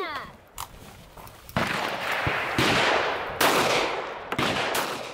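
Pistol shots ring out on a stage of an AK-only shooting match, several sharp, loud reports spaced irregularly across a few seconds, with a short burst near the start and outdoor echo between shots.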